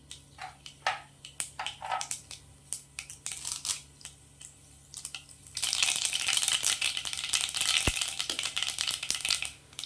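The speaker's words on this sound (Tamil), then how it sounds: "எண்ணெய் கொஞ்சம் ஜாஸ்தியாக சேர்த்துக்கோங்க அப்போ தான் நல்லாயிருக்கும் கடுகு உளுத்தம் பருப்பு சேர்த்துக்கலாம்" Mustard seeds and urad dal dropped into hot oil for an egg gravy, giving scattered crackles and pops at first, then a steady loud dense sizzle and spatter from about the middle onward, with no talking.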